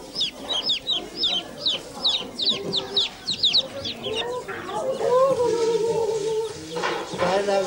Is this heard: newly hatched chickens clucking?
yes